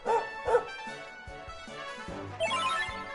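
In the Dragon Quest XI game, a puppy enemy gives two sharp yapping barks, then video game sound effects and a bright chiming jingle play over the battle.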